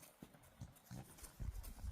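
A horse's hooves thud in a regular clip-clop rhythm as it is lunged in a small circle without a lunge rope, moderately close and growing slightly louder toward the end.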